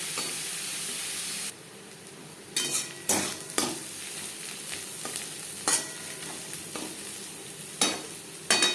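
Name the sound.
onions frying in a pan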